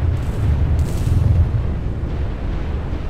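Continuous rumbling explosions and gunfire from the real-time strategy game Ground Control 2, a dense, low, steady barrage of battle noise with no clearly separated shots and no talk.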